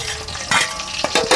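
Green chillies and onions hitting hot tempering oil, crackling and sizzling loudly with bursts of frying as they are stirred, no voices.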